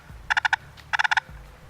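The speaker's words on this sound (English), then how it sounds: "Purr, you just drag it." A turkey call purr made by dragging the striker across a friction call: two quick bursts of four or five rolling, raspy clucks, loud and close, separated by a short pause.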